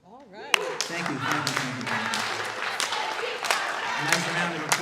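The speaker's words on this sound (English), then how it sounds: "A nice round of applause for the Career High School cheerleaders." An audience applauds the Career High School cheerleaders, a dense wash of clapping that starts suddenly and holds steady, with scattered louder claps and some voices mixed in.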